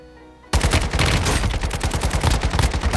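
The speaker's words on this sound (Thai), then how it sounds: "แถวเราก็มีเสียงปืน" Rapid bursts of automatic gunfire in the video game Warzone Mobile erupt after a brief quiet start, loud and sustained with a rattling rhythm.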